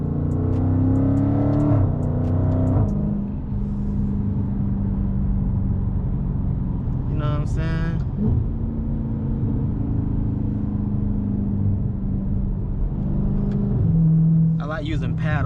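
A 2020 Dodge Charger Scat Pack engine rumbles and pulls hard through the gears while passing traffic, with deep shifting tones heard close from inside the car and short bursts of high-pitched sound near the middle and the end.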